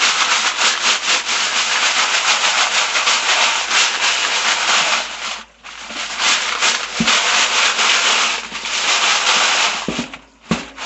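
Brass .223 rifle cases and steel tumbling pins being shaken in a jug after a rinse, a loud continuous rattling and clattering churn with a brief pause midway and a few sharp knocks near the end.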